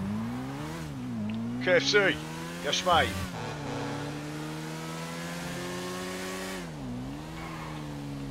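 A GSX-R motorbike engine in GTA 5 holds a steady, droning hum that rises and falls with revs, with someone talking briefly over it.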